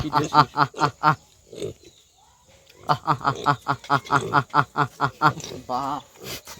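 Rapid rhythmic grunts from a slightly sick pig in bursts, loud and close, pausing briefly before resuming, ending with a longer squealing grunt.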